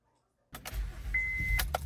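A car engine cranks and catches after a change of oil, idling with a low steady rumble, a faint whine and a couple of clicks, close by and without talk.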